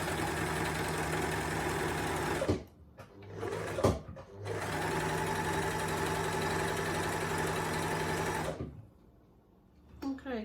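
An overlocker hemming a skirt and the edge of a cardigan runs loud and continuous in two long stretches, broken by a short pause, with a steady motor drone and rapid stitching rattle.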